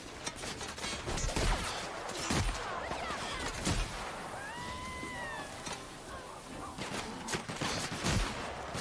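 Gunfire in the video game The Outer Worlds, a dense stream of sharp repeated shots with bursts across the whole stretch, loud and busy, with occasional whines and other game effects mixed in.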